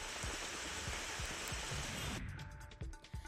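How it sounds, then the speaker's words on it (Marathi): Sudden unseasonal evening rain falls steadily on farmland, a dense even hiss with occasional nearby drop impacts, easing and thinning toward the end. "सायंकाळी अचानक पावसानं हजेरी लावली आहे"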